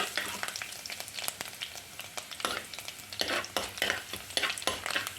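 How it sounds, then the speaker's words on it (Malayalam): Three cloves of sliced garlic sauté in a pan for a prawn theeyal, a soft sizzle punctuated by repeated sharp scrapes and knocks of a spoon stirring, close up and steady with no voices. "ഇതിലേക്ക് നമുക്ക് ഒരു 3 വെളുത്തുള്ളി നീളത്തിൽ അരിഞ്ഞതാണ്, അതും കൂടി ഒന്ന് ഇട്ട് കൊടുക്കാം. ഒന്ന് വഴറ്റി കൊടുക്കാം."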